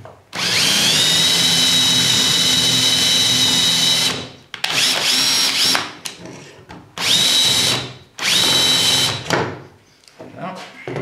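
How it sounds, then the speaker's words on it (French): Power drill boring holes into a wall for shelf brackets, loud sustained whine that stops, then several shorter bursts with pauses between. "On va tout de suite positionner correctement"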